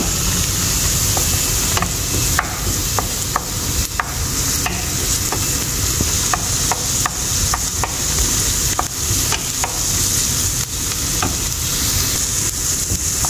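Pancit canton noodles browning in a pan, giving a steady, loud, continuous sizzle and fry with scattered clicks of stirring throughout, no voices.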